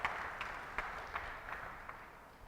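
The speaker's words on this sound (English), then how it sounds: "A big round of applause to our conference director." Audience applause at a project management national conference, a wash of many hands clapping together with regular soft peaks, moderately distant and steady, no voices heard.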